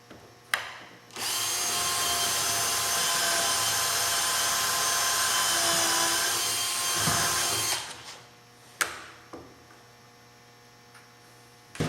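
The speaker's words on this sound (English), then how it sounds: "we got the holes all drilled. There's 96 of them in this top" A power drill boring holes through a downdraft table top, one long loud steady whine lasting several seconds after a short start, then stopping, followed by a few sharp knocks and handling sounds.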